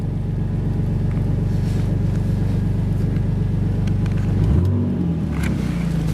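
A Toyota Supra engine runs loud and close, a steady, throbbing low idle that breaks into a rougher shift near the end, with no talking over it.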